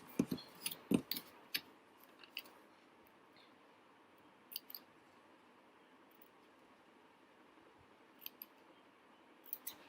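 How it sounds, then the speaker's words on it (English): Scissors snipping paper to cut out penguin legs for a children's craft, a cluster of quick sharp snips at the start, then a few isolated cuts, faint and close in a quiet room. "So cut out the legs as well"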